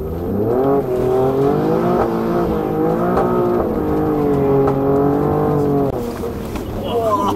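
Alfa Romeo Stelvio QV engine revving hard on a track, a loud, close rasping note that climbs and dips in pitch through repeated throttle swells over about six seconds, then settles.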